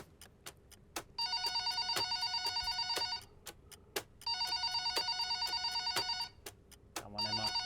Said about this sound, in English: Let's give Emma a call